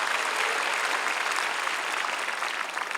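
Dense, steady applause from a large church congregation at a 2016 peace-unification prayer rally at the War Memorial in Yongsan, a loud continuous wash of clapping that holds evenly throughout with no talking.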